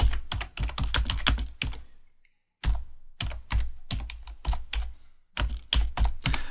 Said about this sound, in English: I can click on here and go edit and then just start typing in my note.